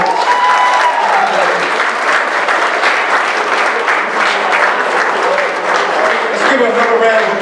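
An audience claps for a speaker in a continuous dense wash of applause lasting the whole stretch, with a voice talking over it at the start and end.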